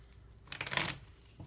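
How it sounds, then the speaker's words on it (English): A short, soft riffle of playing cards being shuffled, a quick burst of crisp flapping with a light tap at the end, quiet and close. "I'm sorry that I'm shuffling here off camera, but you can hear it."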